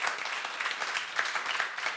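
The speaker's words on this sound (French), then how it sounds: "applaudissez, applaudissez, allez-y" Audience applause at a French comedy club show, a steady, dense wash of clapping throughout with no talk over it.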